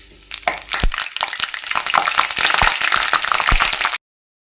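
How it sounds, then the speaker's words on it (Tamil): Moringa leaves dropped into hot ghee burst into a loud, close, crackling sizzle with sharp spattering pops throughout, then the sound cuts off abruptly after about four seconds. "இப்போ முருங்கை இலை வந்து நல்லா பொரிஞ்சு வந்து அந்த சவுண்டெல்லாம் வந்து ஆஃப் ஆகிடும்."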